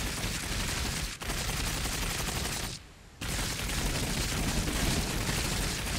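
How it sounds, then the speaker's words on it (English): Carpet-bombing airstrike in the video game Cepheus Protocol: loud, sustained rumbling barrage of overlapping explosions, broken by two brief gaps, with no talk. "Carpet bomb incoming."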